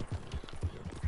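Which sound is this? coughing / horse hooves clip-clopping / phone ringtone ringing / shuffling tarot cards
horse hooves clip-clopping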